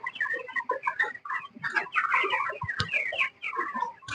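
Broiler chickens on a poultry farm cluck and chatter continuously, many overlapping calls close by with a few sharper squawks and bumps mixed in.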